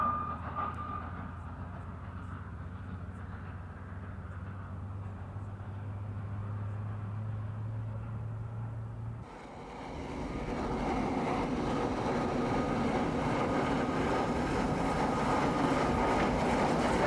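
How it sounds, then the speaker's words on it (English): A special tourist train on the Khyber Pass line arrives at Landi Kotal: a low steady rumble with a droning tone, then a louder, broader rolling roar of wheels and carriages that holds steady to the end. "the train negotiated the unused 10-track marshalling yard and finally came to rest at the terminus"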